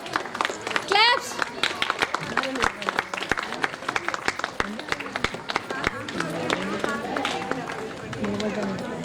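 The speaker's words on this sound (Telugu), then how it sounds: "క్లాప్స్." An audience at a Women's Day celebration claps for several seconds, a dense, close round of applause mixed with loud voices and a crowd chattering throughout.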